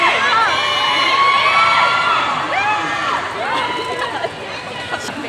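Crowd of fans at a K-pop group Q&A event in a Malaysian mall screaming and cheering loudly and continuously, high-pitched shrieks and whoops rising and falling throughout.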